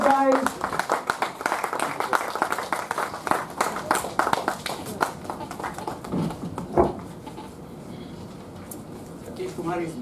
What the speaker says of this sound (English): a big round of applause for the Queen Student guys